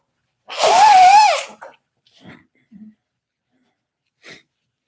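A single loud, close sneeze with a sharp intake and burst, followed by a few faint breaths and small rustles.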